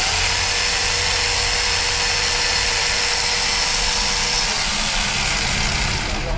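An angle grinder fitted to a Kenso adapter runs in a tool shop in Bekasi, a loud, steady, close motor whine held without a break before easing slightly at the very end.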